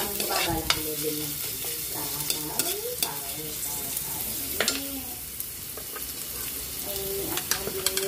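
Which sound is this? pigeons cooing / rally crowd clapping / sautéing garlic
sautéing garlic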